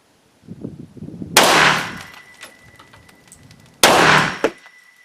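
Rifle fitted with a CVLife 6-24x50 scope fired at a gopher outdoors: two loud, sharp shots a couple of seconds apart, each with a ringing decay, after quieter handling noise.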